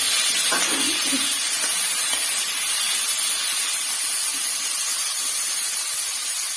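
A steady, bright hiss of green mango pieces sizzling in oil in a pan, constant throughout with a couple of faint clicks early on.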